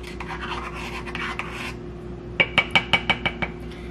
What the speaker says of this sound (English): But I have to dip in like a little small teaspoon